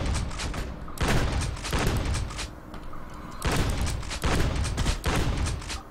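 An automated sentry gun in the sci-fi shooter Space Beast Terror Fright fires in loud, dense bursts of rapid shots, several sustained volleys separated by short pauses.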